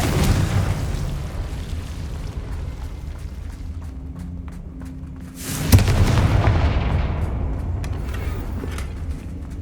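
Confringo fire spell blasts in Hogwarts Legacy, a dense rumbling roar of explosive bursts with a sharp, loud new blast about halfway through, followed by continuing heavy rumble.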